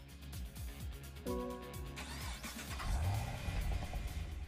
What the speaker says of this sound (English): So a nice little engine revving sound there when you purchase it